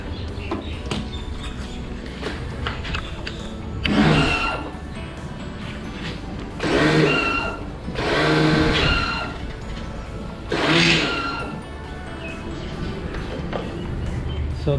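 A Black & Decker pressure washer runs after its pressure switch was replaced, a steady mechanical drone with several louder surges as the motor kicks in and cuts off. It sounds close and continuous, with no talk.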